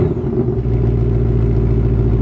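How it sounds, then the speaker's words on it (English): Ford Mustang Mach 1 fitted with a new exhaust cranks and fires up, settling into a loud, deep, steady burbling idle close by. "start her up, brother."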